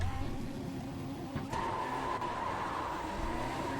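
Dirt race car in the iRacing game at Dirt Charlotte, held in a constant slide, its engine roaring steadily with a rising tone partway through, skidding continuously and loud throughout.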